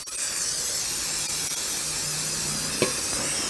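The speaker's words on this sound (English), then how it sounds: "I've got my spray, and I'm going to spray this really generously." Cooking spray hisses in a long, continuous burst from an aerosol can as it coats a bundt pan, loud and close, ending with a faint clink near the end.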